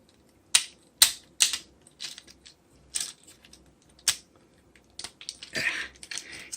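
Plastic parts of an Earthrise Runabout and Runamuck toy robot click and snap into place during transformation, about a dozen sharp, separate clicks at irregular intervals, close and distinct against near silence.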